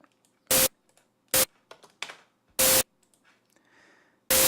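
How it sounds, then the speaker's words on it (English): Bright bursts of synthesized white noise for a synth snare fire in short, evenly clipped hits from a step sequencer, four loud blasts spaced irregularly, with faint clicks and softer noise between them. "So a fair bit of white noise, and we'll dump that down on our step sequencer as well."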